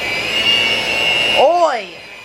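Electric mixer running on low while mixing banana nut muffin batter, a steady whirring drone that cuts off as a voice speaks over the motor's end.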